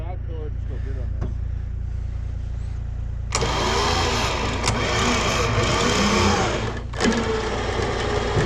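A ranch truck engine cranks and catches, then runs at a rough, loud idle with revving. A steady low hum comes before the start, and people talk briefly.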